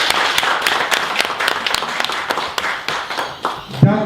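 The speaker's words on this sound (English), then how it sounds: "big applause for yourself" Clapping from the people gathered at the close of a launch event in Queensland, uneven and patchy with distinct sharp claps, mixed with talk and crowd noise.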